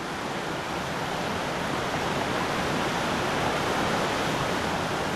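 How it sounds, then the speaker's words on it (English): Steady, dense roar of the Scrong river in flood after a downpour, a raging torrent, loud and unbroken, with no voices over it. "yesterday's downpour has turned the Scrong into a raging torrent"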